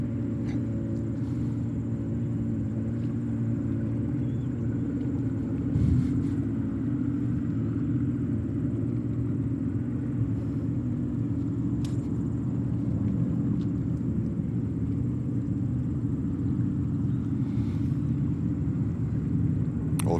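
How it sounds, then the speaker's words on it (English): An American Airlines Boeing 737-800 at JFK Airport bound for Miami, giving a low continuous jet engine rumble at a steady level throughout, heard from some distance with no talk. "We have American Airlines flight 688, a 737-800 to Miami."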